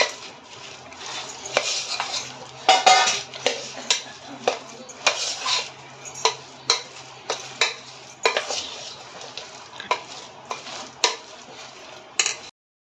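Dal vada mixture with coriander being mixed by hand in a pot, a steady run of rhythmic scraping and clinking strokes, about a dozen sharp beats, close and clear with no talk.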